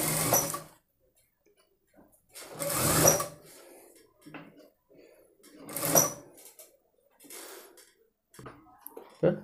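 A home sewing machine with an ordinary presser foot stitches thread piping onto a blouse neckline, running in short slow bursts separated by pauses, with someone talking between runs.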